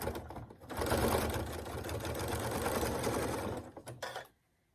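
A sewing machine runs steadily at close range, stitching down a quilted hot pad along a quarter-inch seam, its motor hum continuous for about four seconds before slowing and stopping abruptly into silence.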